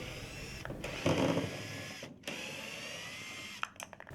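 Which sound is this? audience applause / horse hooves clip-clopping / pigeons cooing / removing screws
removing screws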